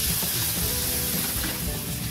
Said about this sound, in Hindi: इसमें ये 1 चम्मच अदरक बारीक कटी हुई डाल देंगे और एक ये हरी मिर्च है, इसको भी हमने बारीक काटा है, ये भी इसमें डाल देंगे।